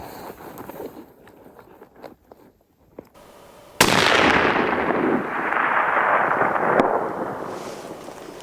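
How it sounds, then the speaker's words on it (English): A long-range rifle shot at a rock target 750 yards away: a sharp, loud report cuts through the quiet and is followed by a sustained broadband roar and rolling echo lasting several seconds. "I'm gonna take a shot at it and make sure everything's checking out."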